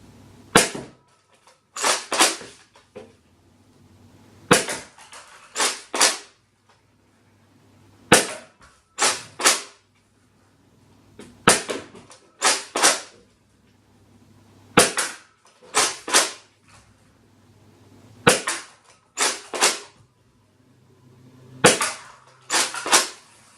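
Nerf Rival Apollo XV-700 blaster fired repeatedly during an accuracy test, sharp close pops arriving in quick clusters of two to four shots with short pauses between volleys, no voices.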